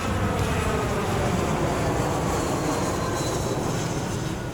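A Boeing 737 airliner landing at Newark airport, a steady loud broadband jet roar that holds without a break and fades slightly at the end, with no voices.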